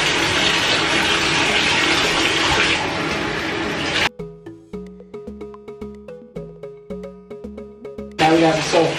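Running water from a tap gushes loudly while a French bulldog is bathed, cutting off for a few seconds and then resuming, with clicks and knocks during the pause.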